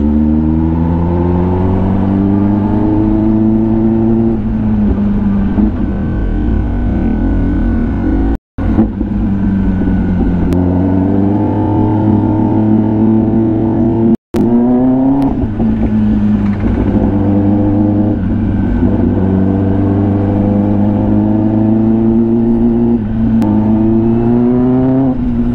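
Loud Kawasaki ZX10R motorcycle engine revving while riding, close and continuous, climbing repeatedly through the gears with rising pitch sweeps under steady wind roar.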